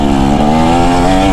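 A 2024 KTM 250 SX dirt bike engine lugging at low revs, a steady close-up drone with a slight rise and dip in pitch, loud and continuous throughout.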